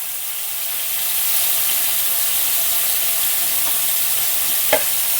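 Ridge gourd slices fry in a pan with a steady broadband sizzle that swells after the first second and holds level, with a brief clink of stirring near the end and no talking.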